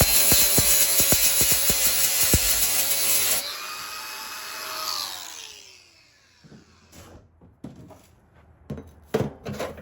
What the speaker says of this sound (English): I'm gonna hit that with a sanding wheel, get those off of there